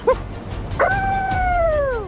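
A puppy gives a short yip and then a longer whining, howl-like cry, loud and close, with wind and surf noise from a sandy beach by the sea underneath.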